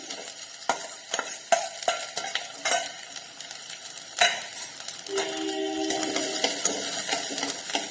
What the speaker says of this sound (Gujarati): મેં એક ડુંગળીને આ રીતે મોટી મોટી કટ કરીને લીધી છે, તે આપણે આ તેલની અંદર એડ કરી દઈશું